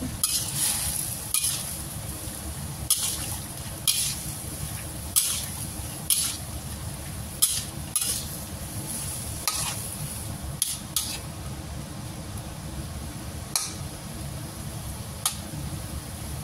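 Green beans stir-fry with oyster sauce in a pan, a low steady sizzle broken by regular sharp clacks and scrapes of a utensil stirring against the metal, close and with no voices.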